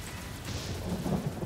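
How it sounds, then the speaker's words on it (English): Lightning attack in the video game Warlander, a short crackling rumble of thunder-like noise with rain-like hiss, loud and broadband, no talk over it. "Oh, lightning."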